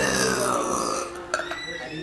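A loud, drawn-out burp during a burping contest rumbles close to the mic for most of the moment, with a voice or brief sounds breaking in near the end.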